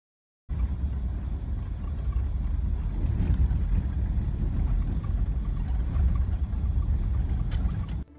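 A big Chevy drives a slick, muddy dirt road of melting snow, its engine a steady low drone with road rumble and occasional rattles, starting abruptly and running evenly before cutting off.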